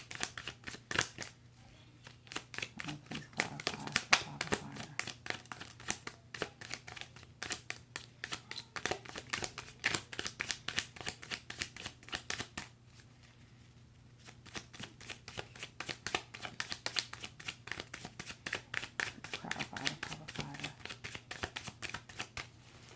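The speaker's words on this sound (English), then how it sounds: "I like to shuffle until a card falls out." Tarot cards are shuffled by hand in a long run of dense, rapid riffling and crinkling that breaks off briefly partway through, then resumes; close and moderately quiet with no talking.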